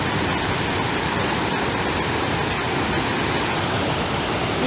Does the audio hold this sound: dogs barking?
no